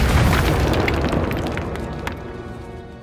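Confringo explosion spell in Hogwarts Legacy, a loud booming blast with a rumbling fiery roar that slowly fades over a few seconds, ending in a small crackle.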